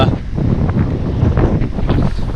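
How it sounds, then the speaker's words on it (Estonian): Wind buffets a microphone outdoors in Cuba, a loud, continuous low rumble with gusting surges that fills the whole stretch, no voices. "Päris veits tuul"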